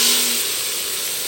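Tomatoes hit a hot pan in a home kitchen, giving a steady, loud, broad hiss and sizzle that runs for the whole moment without speech.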